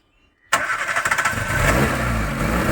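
A Chevrolet car engine cranks and catches after half a second of silence, then settles into a loud, steady idle with a rapid rhythmic pulse close by.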